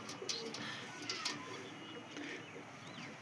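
Pigeons, including a black pair, coo softly in a netted loft, with several low, rounded calls repeating at irregular intervals over quiet background noise.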